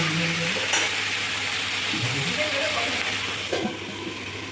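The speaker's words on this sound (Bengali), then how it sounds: "এখানে পেঁয়াজকলি আলু ভাজা হচ্ছে।" Spring onion and potato fry in a pan with a continuous close sizzle, with occasional stirring scrapes and a low steady hum underneath; no clear talk is heard.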